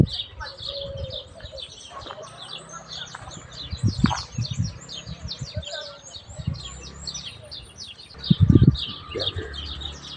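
Pigeons and seagulls gather outdoors with scattered chirps and calls, some flapping wings, and a flurry of birds scattering near the end, while people talk nearby.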